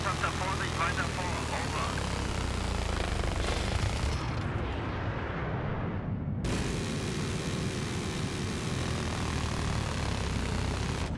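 Enemy fighter jet in Battlefield 3 multiplayer, a loud sustained engine roar that swells and sweeps past, dropping out briefly before the rush returns, with game sounds around it.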